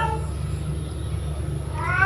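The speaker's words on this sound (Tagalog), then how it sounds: "Yung may ingay na pusa, hindi yan sa amin." Stray cats meow and yowl nearby in a short, continuous burst of drawn-out cries, heard alone without talk.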